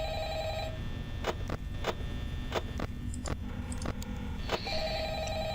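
A telephone rings in Five Nights at Freddy's, a repeated electronic bell tone with short pauses between rings, alongside sharp ticking clicks, fairly faint with no talk over it.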